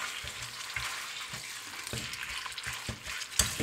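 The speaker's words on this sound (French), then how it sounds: "Je vais mettre un petit filet d'huile d'olive. Et je vais y ajouter ma viande." Ground meat frying in olive oil in a pan, a steady close sizzle with occasional stirring scrapes and crackles, no talking.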